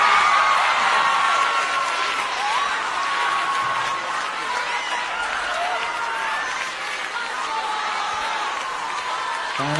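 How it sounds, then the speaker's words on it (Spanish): An audience at a concert applauds and cheers continuously, dense close clapping with whoops and crowd noise sustained at a steady, fairly loud level throughout. "para el que os pido un fuerte aplauso"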